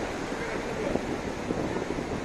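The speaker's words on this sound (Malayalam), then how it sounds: "കടൽ വളരെ പ്രക്ഷുബ്ധമാണ്." Rough, churning sea surf at Kappad beach, where the coast is eroded by wave attacks, heard as a steady broadband wash mixed with wind buffeting the microphone and a faint voice.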